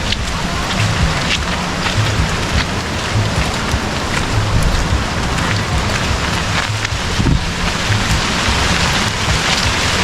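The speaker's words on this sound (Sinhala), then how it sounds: "මචං වහින්න ගත්තා" Steady heavy rain falls in a jungle at a camping spot, a dense close hiss of drops with wind buffeting the microphone throughout.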